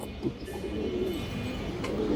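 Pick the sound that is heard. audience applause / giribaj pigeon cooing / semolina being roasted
giribaj pigeon cooing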